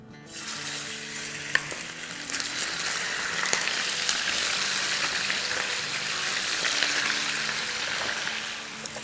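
Bone-in chicken pieces frying in hot oil in a karahi, a loud continuous sizzle with occasional stirring clinks, steady and close throughout with no talking.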